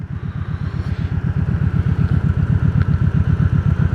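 A motorcycle engine runs while riding, a loud, close, pulsing throb with a steady rapid beat, and no speech.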